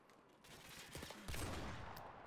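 Rapid gunfire in the H2M mod of Modern Warfare 2 Remastered, a continuous dense burst of shots that grows louder partway through, with no talking.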